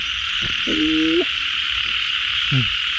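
Large female frogs croak in a rice field during heavy rain, a few separate low croaks standing out over a constant hiss of rain.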